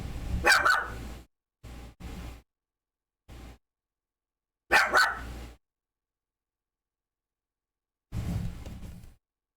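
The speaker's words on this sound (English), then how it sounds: "He's barking at the wall." A dog barks at a wall indoors in several loud, close bursts: a quick double bark, a few short yips, another sharp pair, then a longer final bark, separated by silence.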